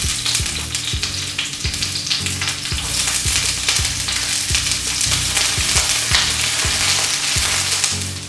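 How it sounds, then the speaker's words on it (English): Onions and carrots with fresh thyme sauteing in a pan for coconut curried tofu make a steady, close, crackling sizzle that runs without a break, with a faint rhythmic thumping underneath. "allow these to saute to get translucent and release all of that excess flavor from our onions"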